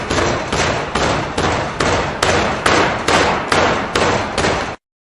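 A packer ramming sand tight into a casting flask, giving about ten heavy, evenly spaced thumps roughly every half second, close and loud with no talk, then stopping abruptly.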